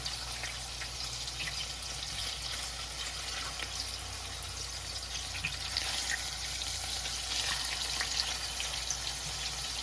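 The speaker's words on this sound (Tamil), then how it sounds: "இதை பொறிஞ்சிட்டு நான் அடுத்த பக்கம் டேர்ன் பண்ணுறேன்" Meatballs sizzle steadily in a hot pan, a continuous dense crackle of spattering oil that holds even and close throughout, with no talking.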